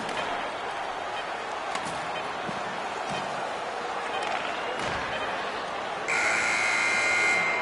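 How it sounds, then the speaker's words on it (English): Hockey game ending with the end-of-game horn sounding in an arena, a steady loud blare entering near the end over crowd noise and commentary. "The game is ended. And the buzzer sounds."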